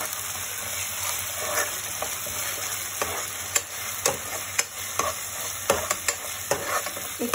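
A green paste of ginger, garlic, coriander and green chilli sautéing in a pan for crab curry: a constant bright sizzle with sharp scraping strokes of a spoon, sparse at first and then more frequent.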